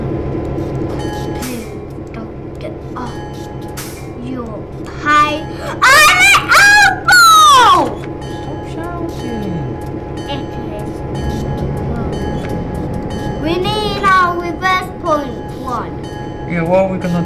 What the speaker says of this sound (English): Daddy, stop the train!